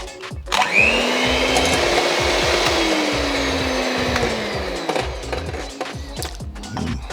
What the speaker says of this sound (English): So let me just whisk the eggs first.